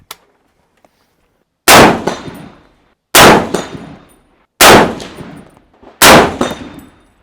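Four sharp M1D Garand rifle shots, each followed by a ringing ping from a struck steel target plate, spaced about one and a half seconds apart, loud and close with decaying metallic ring.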